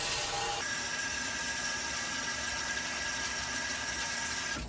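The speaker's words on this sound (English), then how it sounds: "we're going to put them in the sink, and you got to rinse them with really hot soapy water" Hot water runs steadily from a faucet into a sink as tools are rinsed, a continuous broadband rush that holds level for several seconds and cuts off abruptly near the end, with no talk over it.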